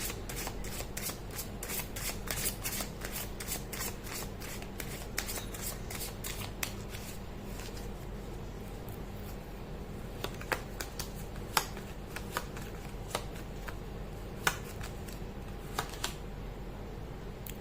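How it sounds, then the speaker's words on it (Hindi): Tarot cards are shuffled by hand continuously, a dense close riffling and flicking with occasional sharper snaps, steady and alone without talk. "कर लेती हूँ कार्ड की शफलिंग।"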